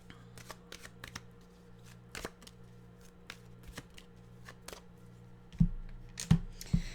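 Oracle cards being shuffled by hand close up, a series of quick papery riffles and snaps spread unevenly, with a few louder handling knocks near the end and no speech.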